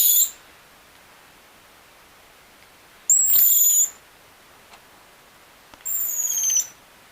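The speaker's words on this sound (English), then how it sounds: "It's a very high-pitched sound that they make, because this is basically something that the mother can home in onto and find them when they're in a thick bush." Orphaned baby monkeys in a rescue setting give three thin, very high-pitched piercing calls, each about half a second to a second long, spaced seconds apart over a quiet background hiss.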